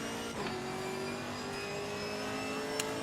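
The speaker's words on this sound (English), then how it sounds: "Maserati has a great sound" A Maserati race car engine in the Assetto Corsa Competizione racing game hums at a steady mid pitch with a slight rise in tone, heard from the cockpit and faintly under a constant broad noise.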